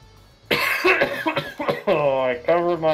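A single person coughs into a covered mouth, a short muffled burst up close, followed by a few seconds of voiced sound that may be speech.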